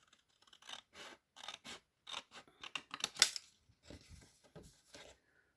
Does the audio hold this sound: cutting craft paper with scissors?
yes